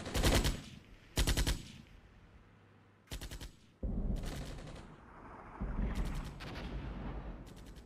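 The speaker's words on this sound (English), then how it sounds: "Yes, this artillery is definitely quite effective." Artillery and machine-gun fire in the war video game Armored Brigade: loud rattling bursts of gunfire, several sharp volleys separated by short gaps, over a rumbling battlefield background.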